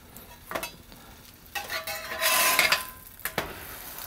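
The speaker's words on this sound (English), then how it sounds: "I'm starting to see some minor smoke come off the bottom surface of the pan, so I'm going to go ahead and check on the sandwich and flip it" A grilled cheese sandwich sizzling in a smoking cast iron pan, with a quiet hiss, a few scraping clicks of the spatula, then a louder burst of sizzle as the sandwich is flipped, and no talk.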